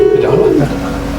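A Javan endemic pigeon coos close by, a low, throaty, rolling call that drops off near the end, with no talking.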